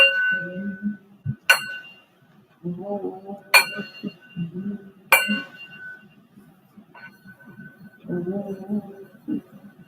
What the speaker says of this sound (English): Some chimes coming through.